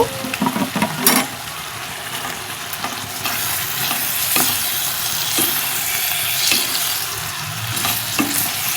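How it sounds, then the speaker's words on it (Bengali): Pieces of fried katla fish are stirred in a bubbling spice masala, with repeated scraping strokes over a constant oily sizzle, close and fairly loud, with no talking. "মশলার সাথে মাছগুলো ভালো করে কষিয়ে নেব।"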